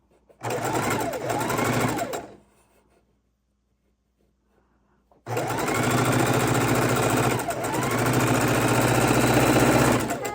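A sewing machine hums and stitches fabric scraps for log cabin quilt blocks in a fast, steady run, stops for a few seconds of quiet, then starts again and runs continuously.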